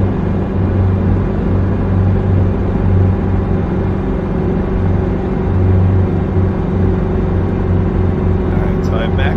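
A helicopter engine strains at full throttle in a flight simulator, with the aircraft about 200 pounds over weight. It gives a loud, steady low drone and whir that holds level throughout.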